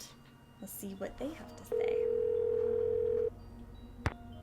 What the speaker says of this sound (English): Okay, so we have not called that phone number yet, so let's do that.